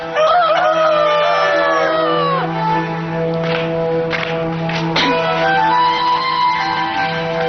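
A rooster crows loudly and close, with a strained, wavering call that breaks up into shorter squawks and clucks, over a steady low hum of background music.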